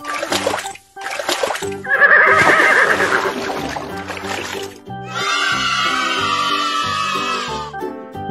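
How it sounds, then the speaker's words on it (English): A cartoon horse neighs in a children's animal song, a loud bright whinny over bouncy music with splashing water from a swimming pool. "horse."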